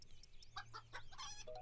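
Chickens clucking in the mobile puzzle game Puzzle Craft, short cartoonish clucks and chirps repeating in quick succession over a low steady hum, fairly faint and without speech.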